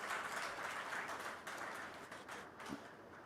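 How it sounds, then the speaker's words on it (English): An audience at a valedictory function gives sustained applause, a dense steady wash of distant clapping that thins slightly toward the end, with no voices over it. "they deserve more applause these days"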